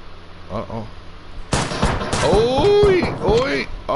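Shotgun fire in the Apex Legends video game erupts abruptly after a quieter stretch, loud and close, followed by a dense run of gunfire and game effects while voices talk over it.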